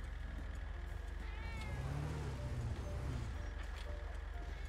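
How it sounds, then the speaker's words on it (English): A cat meows in a video game, a single drawn-out mew standing out over steady engine-like background hum and game ambience, moderately clear and not far off. "There's a cat. There's a cat."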